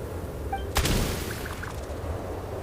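A single gunshot in a video game cracks out as one sharp, fairly distant report, followed by a brief fading echo over a low ambient hum.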